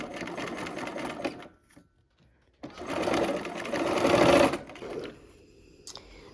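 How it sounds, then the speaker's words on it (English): A sewing machine runs in bursts over quilt seams with the needle kept down, a short run, a pause, then a louder sustained stretch of stitching near the mic. "Sewing with my needle down. It helps with all these seams that are meeting."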